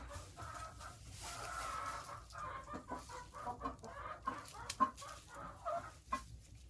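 Several hens in a henhouse cluck and murmur close by in short, irregular bursts, with occasional louder squawks over a soft farmyard background.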